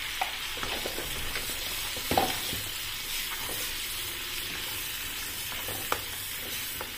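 Two spoonfuls each of coriander and cumin fry in hot oil for mango pickle, giving a close, steady sizzle with a spoon stirring and scraping through it and a couple of sharper knocks against the pan.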